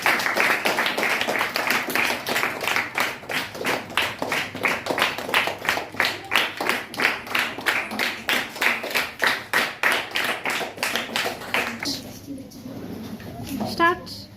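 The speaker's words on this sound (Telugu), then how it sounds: "Claps to them." A ninth-grade class of students claps in unison, a long run of sharp, evenly spaced claps at a brisk steady beat that stops abruptly near the end, followed by a quieter moment with faint sounds.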